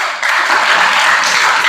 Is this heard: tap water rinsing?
no